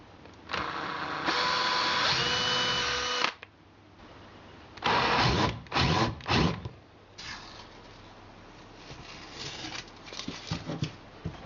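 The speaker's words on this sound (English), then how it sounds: "With one hand on the side, I should be firm enough to be straight with the drill." A power drill bores a sling stud hole into the stock of an Anschutz 1517 rifle, with a loud, steady motor whine for about three seconds, then several short, sharp bursts as the drill works through the wood.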